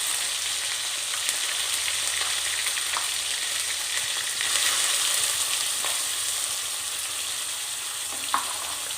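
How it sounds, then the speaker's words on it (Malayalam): Onions and tomatoes fry in a pan for dal palak, giving a steady, loud, dense sizzle that runs the whole time, with a few faint stirring clicks and no voices. "സവാള ഒന്ന് ചിക്കി എടുത്തുകൊണ്ട് ചെറുതായിട്ടൊന്ന് ഫ്രൈ ആകുമ്പോൾ"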